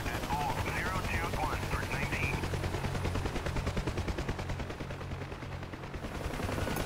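A door gunner's machine gun fires from a UH-1H Huey helicopter in the DCS flight simulator, with rapid bursts of gunfire over the steady thump of rotor and engine noise.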